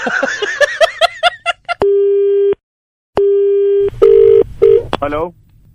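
Brief vocal sounds give way to two long, steady telephone tones separated by a pause, then a quick run of shorter beeps.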